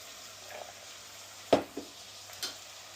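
Pasta frying until golden and crispy in a pan with tomatoes and chili, a faint steady sizzle broken by a few sharp clinks and scrapes of stirring, close and quiet.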